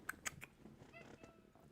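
A fat pet cat gives a few short, faint meows close by in a quiet indoor room.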